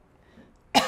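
A single sharp, close cough breaks in abruptly after a faint, quiet stretch.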